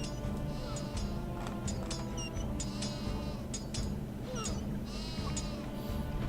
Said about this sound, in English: Let's shut that goat farm up.